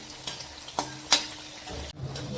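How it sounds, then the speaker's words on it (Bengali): Onions fry in hot oil for Bengali piyaji, with a steady close sizzle and a few sharp stirring scrapes against the pan. "দেখুন বন্ধুরা, কত সুন্দর লাল লাল করে পেঁয়াজগুলো ভাজা আসছে"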